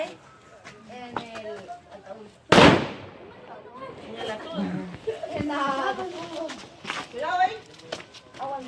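A firecracker bomb goes off on Christmas Eve with a single sharp, loud bang that decays quickly. Excited voices shout and talk before and after the blast.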